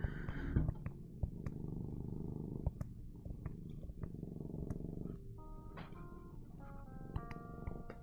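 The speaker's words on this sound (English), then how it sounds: "just have to wonder if you can hear this one purring." A cat purrs close up in a low, rhythmic rumble that continues steadily, with a few soft higher tones near the end.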